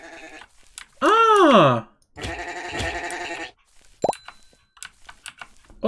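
Sheep in the block game MineClone5 on Minetest bleat twice in loud, wavering calls, followed by short clicky shearing and plopping sounds, with a brief exclamation from a player.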